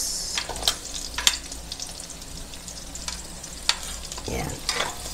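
Garlic and onion sizzle in hot oil in a pan for pork belly with tofu and black beans, a steady close frying hiss broken by sharp scraping stirs of the utensil.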